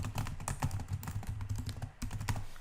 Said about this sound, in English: I'm going to type in the school domain